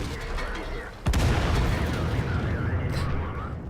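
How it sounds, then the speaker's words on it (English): Friendly artillery fire in World of Tanks lands as a sudden heavy boom after a second, followed by a loud rumbling roar of battle, with a voice faintly mixed in. "Although friendly artillery does finish off the enemy Waffenträger."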